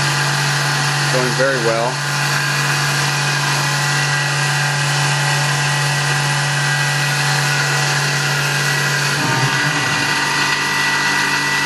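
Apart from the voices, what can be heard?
Tormach PCNC 1100 CNC mill cutting a full-width slot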